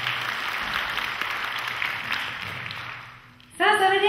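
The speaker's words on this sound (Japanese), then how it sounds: "もう一回大きな拍手をお願いします" An audience at a stage event applauds: a dense, steady wash of clapping that fades out near the end, followed by music starting up.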